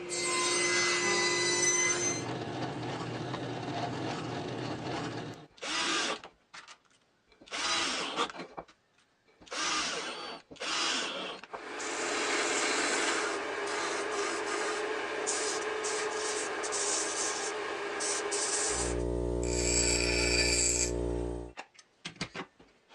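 Plasma cutter slicing a piece off a steel pantograph frame in a workshop, heard as loud harsh hissing bursts that start and stop several times, then a long steady cutting stretch ending in a buzzing, strongly tonal roar.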